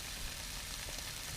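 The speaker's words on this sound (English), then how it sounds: "Have a bit of bacon. And get that just starting to Sizzle away nicely there" Applewood bacon sizzles in a pan on a camping stove outdoors on a wet day in Great Langdale, a steady, close, crackling hiss with no break and no one talking.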